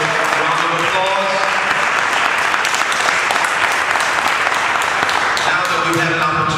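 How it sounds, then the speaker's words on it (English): Sustained applause from an audience at a Bronx city council candidates' forum, dense steady clapping filling the room for several seconds, with some voices faintly mixed underneath. "let's give all the round of applause"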